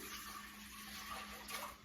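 Four cups of water pour into a medium-sized pot while making peach iced tea, a steady close rushing splash that holds for under two seconds.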